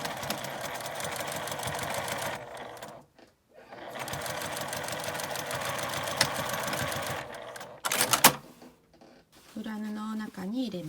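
A sewing machine edge-stitches a clear-window key case in quick continuous runs, pausing briefly between bursts, then a short mechanical clatter and a softer whirring tone at the end; a voice speaks faintly over the machine.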